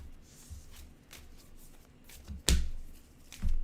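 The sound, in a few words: shuffling a deck of mana cards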